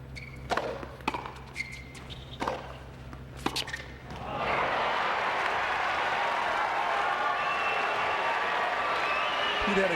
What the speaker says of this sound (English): This is the loudest the crowd has been.